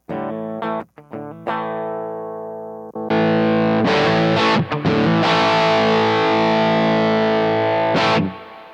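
Distorted electric guitar through a Bluguitar Amp1's vintage channel: a few picked notes and chords, then sustained crunchy strummed chords ringing out loud, with no talking.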